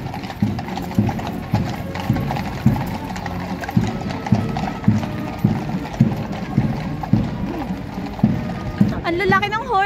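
Horse hooves clip-clopping on a street in London near Buckingham Palace, a loud, close, steady trotting rhythm with voices chattering in the background.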